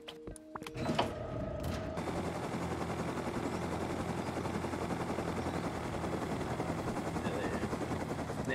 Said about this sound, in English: Right, I'm gonna get a heli.